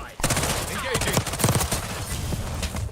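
Fast, loud bursts of automatic gunfire in Call of Duty Black Ops 6, with crisp repeated shots and clattering mechanical clicks, and voices talking briefly over the firing.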